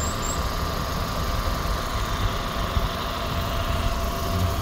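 The 250-horsepower 2.0-litre gasoline engine of a Volvo V90 Cross Country wagon with eight-speed automatic and AWD hums steadily from inside the cabin while driving, a low, even drone mixed with road noise.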